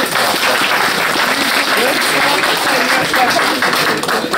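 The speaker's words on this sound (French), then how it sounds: "On applaudit encore une fois la petite." Applause for a little girl at an engagement party, steady dense clapping from a crowd lasting the whole stretch, loud and close, with scattered voices mixed underneath.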